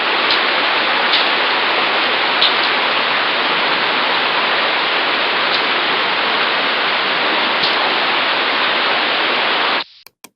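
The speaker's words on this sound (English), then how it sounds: "It's rainy." Steady, dense rain pours without a break for about ten seconds, loud and close like a heavy downpour on a surface, then stops abruptly near the end, leaving a few faint clicks.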